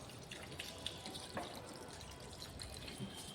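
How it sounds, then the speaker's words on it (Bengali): Water poured from a vessel into a simmering curry in a pan, a faint soft trickle and a few light splashes over low kitchen background noise. "এবার জল দিয়ে দিচ্ছি"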